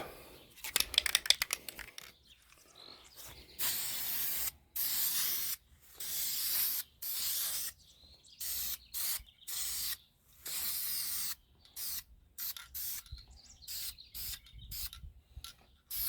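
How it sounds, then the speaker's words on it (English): Ace Rust Stop spray paint goes onto the grill of a Kubota mini dozer in a series of close, hissing bursts separated by short pauses, after a brief rattle at the start. "I'm going to be spraying it with this Ace."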